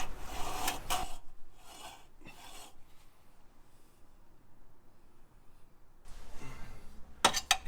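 Chiseling during lift work on a Jeep Grand Cherokee WJ: several short scraping, rasping bursts near the start, a quiet stretch, then more scraping strikes with a sharp clink near the end.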